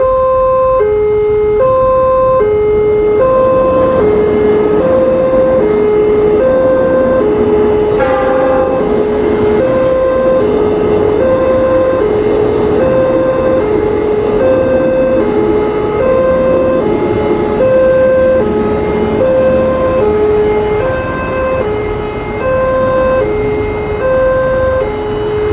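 A KRL electric train running from Probolinggo to Madiun sounds its horn in long, loud repeated two-tone blasts over a continuous rumble of the passing rail cars, with no one talking.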